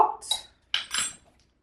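A metal kitchen whisk drops to the floor while someone cooks, giving two quick clattering metallic clinks and rattles in close succession before it settles.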